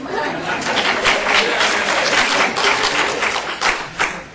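An audience in a lecture hall breaks into applause, steady clapping mixed with some chatter and light laughter that fades near the end.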